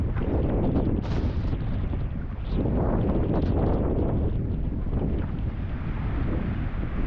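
Strong wind buffets the microphone in heavy, continuous gusts on a boat tour in El Nido, with a roaring low rumble and what sounds like water rushing beneath.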